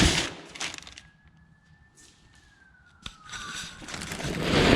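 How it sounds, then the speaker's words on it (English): A siren wails faintly in the distance, its tone rising slowly and then sliding back down over a few seconds, with broad background noise around it. "I don't hear sirens out here very often."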